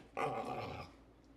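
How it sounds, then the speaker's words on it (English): A puppy dog gives a short, close growling grumble lasting under a second, then falls quiet with no talk over it. "That's a sweet puppy dog."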